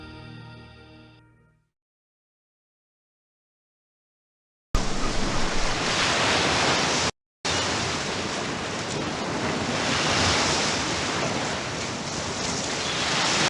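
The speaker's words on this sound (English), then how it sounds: "Constant battering by waves gives many coastlines a jagged, irregular shape." Ocean waves crash and wash continuously against a coastline, a loud, steady roar of surf after a brief stretch of silence.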